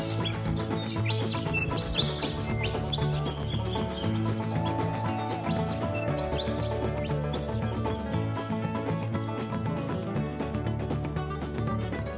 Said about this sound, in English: And it's a bird's paradise here.